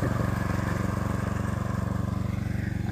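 A lawn mower engine runs steadily and close during garden cleaning, a continuous mid-pitched drone with a fast, even firing pulse and no talk.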